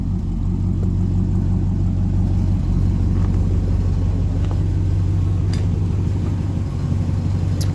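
A 1960 Ford Galaxie Starliner with a 292 Y-block V8 idles steadily after a cold start, giving a continuous low, throbbing rumble that stays even and close throughout.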